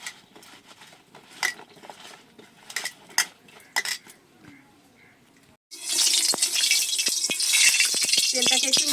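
Eggplant pieces tossed by hand with turmeric, salt and oil in a bowl, giving soft wet squelches and scattered sharp clinks of utensils against dishes, before a louder, steady hissing wash of kitchen noise takes over near the end.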